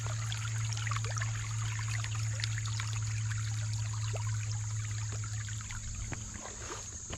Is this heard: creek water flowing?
yes